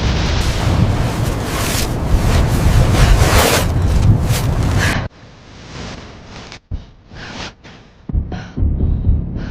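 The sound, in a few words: wind on Everest pushing ladder against ice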